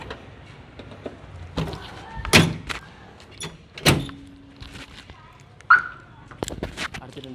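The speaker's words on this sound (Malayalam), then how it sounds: "ബോണറ്റ് പൂട്ടിയില്ലെങ്കിൽ അലാറം അടിയും" A Crosslink central locking system with keyless entry, fitted to a car, gives sharp alarm chirps and clicks amid door and lock sounds. The bursts are brief and scattered, with a short tonal beep near the end and a faint voice in the background.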